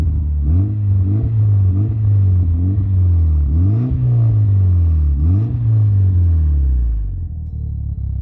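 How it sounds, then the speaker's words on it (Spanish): Mitsubishi Lancer Evo 6 with an Apexi stainless steel exhaust, revved in a series of throaty blips that rise and drop back to a deep idle, close and loud. "la línea de escape Apexi, una línea en acero inoxidable homologada que suena precioso"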